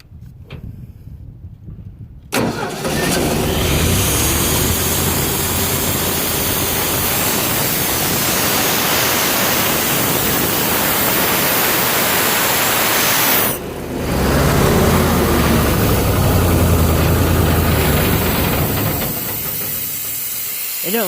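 A 302 air compressor starts up with an abrupt loud hissing roar that runs steadily, cuts out briefly, then resumes at full strength and eases slightly near the end.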